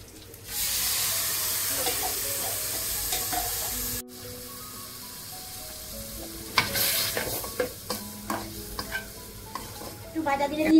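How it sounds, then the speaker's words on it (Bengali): Papaya pieces fry and are stirred in a pan with a little chopped onion and cumin: a steady, loud sizzle for about four seconds, then quieter frying broken by spoon scrapes and clinks against the pan. "ভাজা হয়ে গেছে, আমি পেঁপেগুলো ঢেলে দিচ্ছি।"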